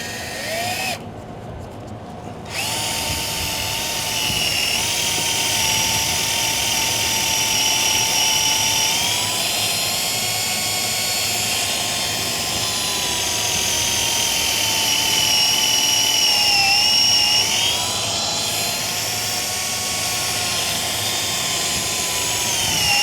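A shop-air-powered drill bores through a broken EGR bolt on a Ford 6.7 diesel engine, a loud, sustained high-pitched whine that runs almost continuously, with a short pause near the start and slight pitch shifts as the bit bites.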